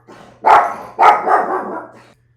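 A dog barks loudly and close by, giving two sharp barks followed by a drawn-out, trailing woof in an otherwise quiet room.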